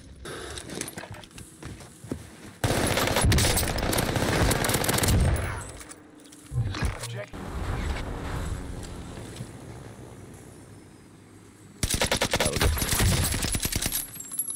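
Sustained automatic gunfire from the battle royale shooter game Call of Duty Warzone comes in long, loud, close bursts of rapid shots, with quieter gaps and distant firing between them.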